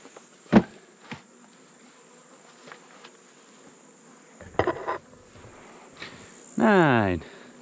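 Honey bees buzz at a hive box as it is lifted during a honey harvest. There are scattered knocks and handling clicks, then a close, loud, wavering buzz near the end that lasts under a second.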